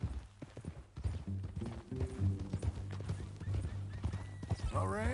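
A horse in Red Dead Redemption clip-clops along with rhythmic hooves, then whinnies near the end, while people talk over it.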